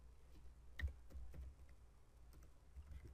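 Soft, quick keystrokes on a computer keyboard, a short irregular burst of close taps with one sharper click, over a faint quiet room hum.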